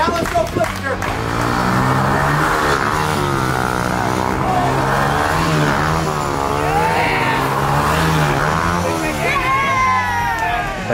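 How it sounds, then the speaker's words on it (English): A dirt bike engine revs and surges during a backflip attempt at Pastranaland, loud and continuous under a crowd cheering, whooping and yelling throughout. "Now let's go flip the dirt bike."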